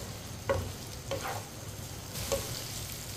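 Chopped okra fries in a pan and is stirred with a spoon: a steady soft sizzle broken by a few scraping strokes, close and fairly quiet.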